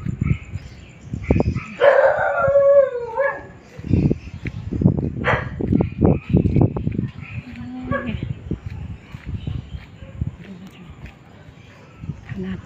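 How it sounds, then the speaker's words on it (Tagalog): Dogs barking noisily, with one drawn-out howl near the start and then a run of short, sharp barks close by, tapering off to quieter background sounds. "Ang aking mga aso maingay."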